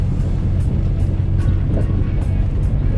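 A Subaru XV drives on gravel along the Kidman Trail, its engine and road rumble a loud, constant low drone from inside the car, with faint repeated ticks of stones against the body.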